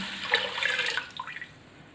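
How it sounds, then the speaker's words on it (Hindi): Water poured into a pressure cooker holding whole masoor lentils, a close, steady splashing gush lasting a couple of seconds that breaks into smaller gurgling splashes as it ends. "और अब इसमें मैं खुला पानी शामिल कर दूंगी।"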